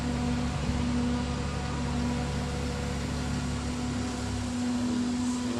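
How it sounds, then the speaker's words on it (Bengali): Steady mechanical drone of a cement and sand mixing machine at a construction site, a constant hum with a low tonal whine, continuous and moderately loud with no voices. "সিমেন্ট বালু মিশানো মেশিন ওটা"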